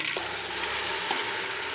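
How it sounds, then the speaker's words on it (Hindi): Beef pieces fry in hot ghee inside a pressure cooker, a dense steady sizzle and crackle with a couple of faint clinks from stirring, close and fairly loud with no voice over it. "इसको हमने कुछ देर के लिए करना है फ्राई।"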